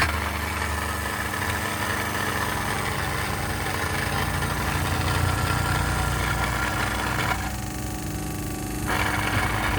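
A bench drill press with a replacement motor runs continuously with a steady, close mechanical hum and vibration, holding an even level throughout with no speech.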